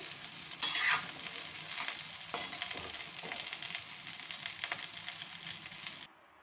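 Potatoes and cauliflower fry in hot oil in a kadai, a steady close sizzle with bursts of crackling and occasional stirring scrapes, cutting off abruptly near the end.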